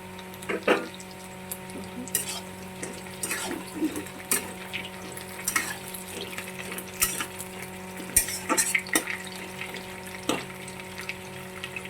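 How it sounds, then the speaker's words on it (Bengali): Fish head frying with onions in a pan in a home kitchen: a steady close sizzle runs throughout, broken by occasional sharp clinks and scrapes of a utensil stirring, with no talking. "এখন এটার মধ্যে আমি দিয়ে দেবো মাছের মাথা"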